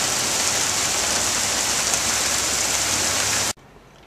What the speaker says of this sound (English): Okay, the rain has slowed down a little bit.